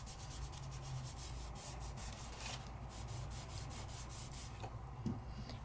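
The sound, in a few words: rubbing Sizzix Luster Wax on with a finger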